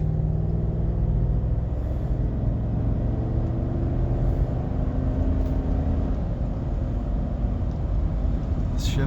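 Car engine running steadily through gear shifts, a low continuous rumble heard from inside with gradual changes in pitch and a faint whine over it.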